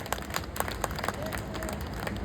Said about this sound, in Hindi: एक बार जोरदार तालियां बजा के बताएंगे